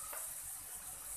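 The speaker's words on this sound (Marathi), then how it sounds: "आता आपण हे जे मिक्सरचं भांडं होतं त्यामध्ये पाणी टाकून" Water poured into a mixer jar while making restaurant-style paneer matar masala, a brief steady splash and gush up close, alone without talk.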